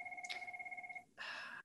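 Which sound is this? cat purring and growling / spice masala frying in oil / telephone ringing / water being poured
telephone ringing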